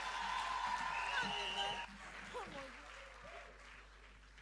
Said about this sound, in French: acclamez encore très très fort pour Nathalie